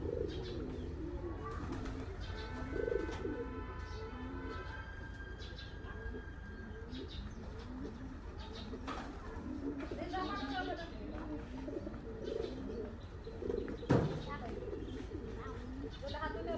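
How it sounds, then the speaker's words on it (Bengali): Pigeons coo repeatedly in soft low warbles, mixed with occasional chirps and a brief whistle-like tone, while a person talks nearby over faint background hum. "এই যে এই কবুতরটা খুবই সুন্দর লাগে আমার"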